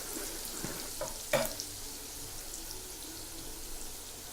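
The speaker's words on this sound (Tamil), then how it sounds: "இப்போ திரும்பியும் இதை நல்லா வதக்கி விட்டுக்கலாம்" Onions sautéing in a pan for a paruppu urundai kuzhambu, a soft steady sizzle with a few brief louder stirring clatters near the start, no talking.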